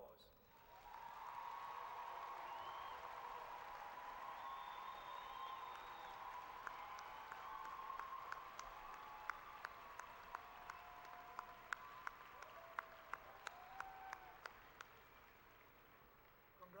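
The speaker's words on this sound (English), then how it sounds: "giving these graduates another round of applause" Sustained applause from a large crowd at a university graduate commencement ceremony, a steady wash of clapping heard from a distance, with a few sharper individual claps standing out toward the end.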